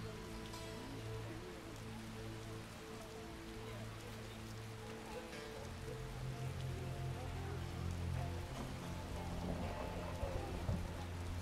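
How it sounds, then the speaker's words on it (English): Heavy rain falls steadily in The Witcher video game, a dense continuous hiss of drops that swells slightly louder toward the end, with low tonal game sounds running underneath and no talking. "Raining cats and dogs."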